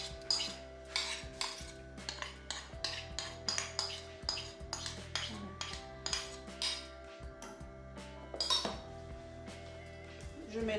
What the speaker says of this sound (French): Je mélange très bien